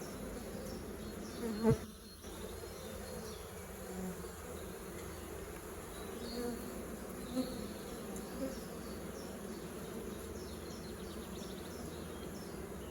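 Honey bees buzz steadily in a soft, constant drone, with a brief louder knock early on.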